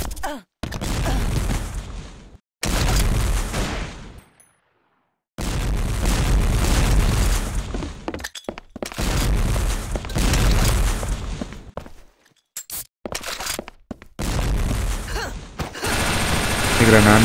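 Explosive bursts and rapid gunfire in the WarRock online shooter, loud repeated blasts in several long blocks broken by sudden silences, with a voice talking in places.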